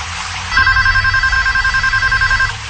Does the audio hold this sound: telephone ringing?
yes